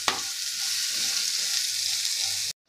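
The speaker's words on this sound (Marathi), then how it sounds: "कांदा आपल्याला खूप लाल करायचा नाही, फक्त ट्रान्सपरंट होईपर्यंत आपल्याला परतून घ्यायचा आहे." Chopped onion frying in a pan with a steady, loud, close sizzle that holds evenly and then cuts off abruptly.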